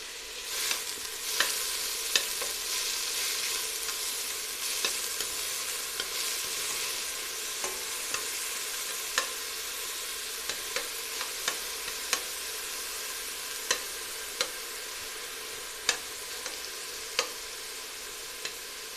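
Steady sizzling of onions sautéing in about three large spoons of hot oil, with occasional light pops and crackles scattered throughout, fairly quiet and close.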